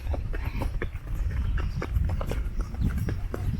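A ridden horse walks along a road on the outskirts in Honduras, its hooves clip-clopping in a steady, slightly uneven rhythm, close by over a low rumbling background.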